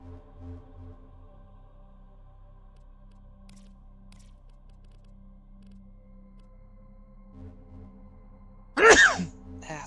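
A single sharp human sneeze bursts out near the end, loud and close, after a stretch of quiet Warframe game background music.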